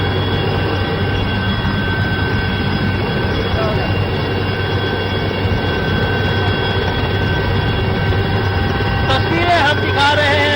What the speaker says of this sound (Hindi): जैसे ही हेलीकॉप्टर इनके कानों तले आवाज पड़ती है हेलीकॉप्टर की